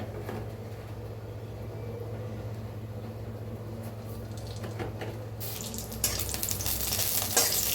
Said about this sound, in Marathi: थोडंसं तेल ओतलंय मिरच्या भाजायसाठी